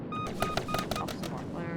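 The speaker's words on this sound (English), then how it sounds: "Pop some flares." A fighter jet in a video game releases flares in a rapid series of popping bursts over a steady engine roar, with voice chat running underneath.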